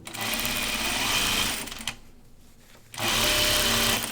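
A sewing machine stitches a kimono seam in steady, loud bursts, running continuously, pausing for about a second, then starting up again.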